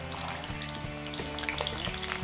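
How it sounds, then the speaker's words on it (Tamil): Steady crackling sizzle of fish frying in hot oil, a dense continuous spatter with occasional louder pops, close and fairly loud. "எண்ணெய் நல்லா சூடாகிற டைம்லேயே நம்ம மீனை சேர்க்கலாம்."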